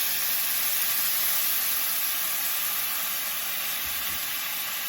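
A quarter cup of beef broth sizzles in a hot pan while steak and chimichurri cauliflower rice are cooking, a quiet, even hiss that holds steady throughout with no talking.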